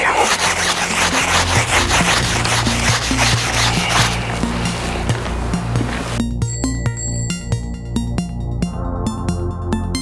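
Continuous close rubbing and wiping around the wheel rim of an e-bike while it is being cleaned, a loud scrubbing rasp with faint spinning clicks, ending in lighter ticking as the wheel turns.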